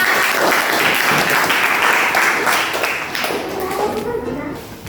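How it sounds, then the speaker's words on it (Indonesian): Steady applause from a classroom group at the end of a lesson, clapping continuously and fading slightly toward the end. "Oke, tepuk tangan untuk kita semua."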